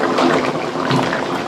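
Water poured into a pan of spice-fried potato curry on a home stove, a steady close-up gushing and splashing lasting the whole moment, with no talking.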